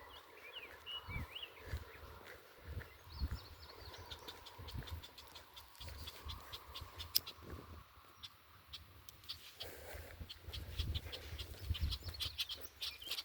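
Birds chirp and tweet in short scattered calls across an outdoor scene on a rainy walk, fairly faint over a low rumbling background.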